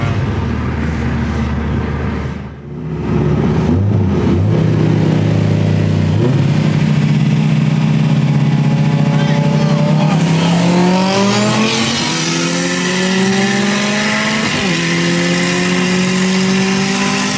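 An 800hp Chevrolet Silverado truck races a 450hp Subaru STI, with engines roaring loud and close, revs climbing through repeated gear shifts over about seventeen seconds, plus a brief dip early on and faint voices.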